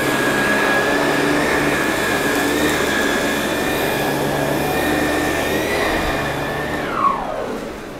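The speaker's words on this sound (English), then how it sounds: "So step one, vacuum the carpet." Vacuum cleaner running over carpet, a loud continuous motor whine with steady airflow roar throughout, the pitch dropping briefly near the end.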